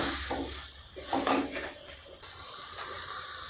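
Malabar spinach (pui shak) being stirred and fried in a pan for a dry masala dish: a steady close sizzle with scraping utensil strokes and a brief louder clatter near the middle.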